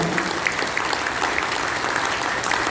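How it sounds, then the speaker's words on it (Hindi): A group claps hands loudly and steadily during a yoga and guided meditation session, dense sustained applause-like clapping throughout with no talking. "एक बार ताली बजाए जोर से, अच्छी तरह से बजाए"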